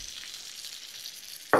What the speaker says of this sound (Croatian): Verujem da čujete i kako cvrči.